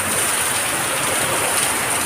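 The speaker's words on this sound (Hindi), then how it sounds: "देखो कितनी बारिश है" Heavy rain pours steadily in a city during a storm, a dense, loud, unbroken hiss of water falling close by.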